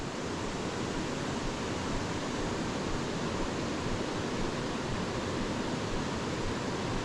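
Rushing creek water pours steadily as a dense, unbroken broadband roar, loud and close for the whole stretch with no voices on top.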